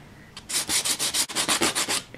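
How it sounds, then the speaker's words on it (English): Sanding a 45-degree chamfer along the edge of 2mm card: a rapid run of about a dozen rhythmic, raspy rubbing strokes, close and clear with no talk. "holding it at 45 degrees, putting the chamfer on"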